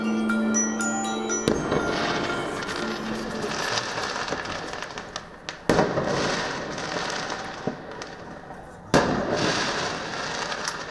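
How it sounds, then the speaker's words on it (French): Firework mortars and large firecrackers go off outside a housing estate in Nanterre, sharp loud bangs at intervals with crackling bursts and rumbling echoes between them, heard from nearby at night. "des jeunes ont tiré des mortiers d'artifice, des gros pétards sur la police devant la cité"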